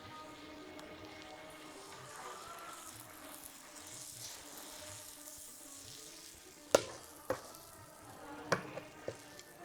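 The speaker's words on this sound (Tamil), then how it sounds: "அதே மாதிரி இன்னொரு தோசை ஊற்றி காமிக்கிறேன் உங்களுக்கு" Quiet continuous sizzle of dosa batter frying on a hot griddle for a crispy hotel-style ghee roast dosa, with a few sharp clinks and taps of a utensil near the end.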